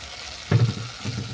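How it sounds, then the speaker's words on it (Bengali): Spice masala, with ground coriander added, frying in oil in a pan for a fenugreek curry. A soft, steady sizzle swells briefly when the mixture is stirred, then settles back to a gentle hiss. "মশলা ভালো করে কষানো হয়ে গেছে, মশলা থেকে তেলও ছেড়ে গেছে।"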